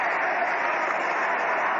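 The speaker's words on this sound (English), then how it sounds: "we had to wait for the roar of the crowd that time" A large crowd roars at a 1937 World Series baseball game between the New York Yankees and New York Giants, heard as a loud, steady wash of cheering with no breaks.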